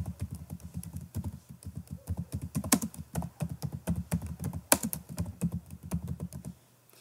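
Typing on a computer keyboard: a steady run of close, crisp key taps at a brisk uneven rhythm, with a couple of sharper louder strokes, for about seven seconds with no talking.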